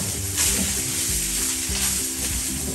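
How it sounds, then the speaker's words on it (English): Soy sauce hits fried rice in a hot pan, giving a loud, steady sizzle and hiss throughout, with a brief crackling surge as the liquid lands and low scraping from stirring underneath. "So I add my soy sauce."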